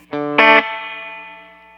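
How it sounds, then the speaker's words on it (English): Two quick struck notes through a Nace M3-7R combo amp set off a clangy spring reverb, a bright metallic splash that rings on and fades slowly over about a second. "That's a clangy spring reverb"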